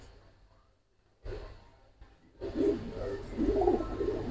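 A pair of pigeons, one a full-throated hen, gives low coos that swell after a near-silent start, growing louder and closer toward the end with some breathy snorts mixed in.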